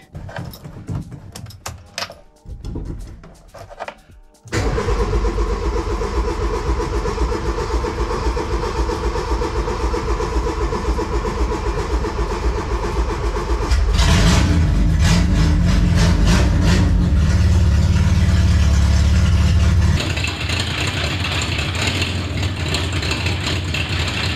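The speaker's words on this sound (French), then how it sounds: "il faudra faire la purge en faisant chauffer le moteur" A Talbot Samba's engine cranks and catches after a few attempts, then settles into a steady warm-up idle; partway through the revs rise to a louder, deeper running note before easing back to a fast idle.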